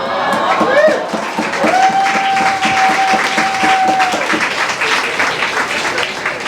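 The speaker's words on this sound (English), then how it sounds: "The applause for the wedding" Audience applause with cheering at a bike story night in a brewery, a steady wash of clapping from a crowd lasting several seconds, with a whistle and a sustained tone rising over it.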